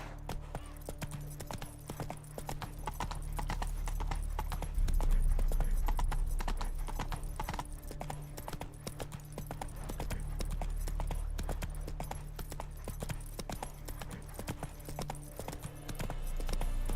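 Hoofbeats from Roach, a horse in the video game The Witcher 3: Wild Hunt, in a steady clip-clop gallop that runs loud and continuous for the whole stretch over a low, rumbling game backdrop.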